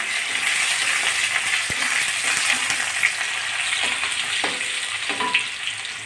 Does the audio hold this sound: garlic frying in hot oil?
yes